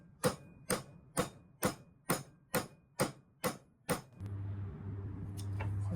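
Nine sharp, evenly spaced hammer taps ring out on a metal knife pin resting on a file, close and crisp, before the tapping stops and a low hum takes over.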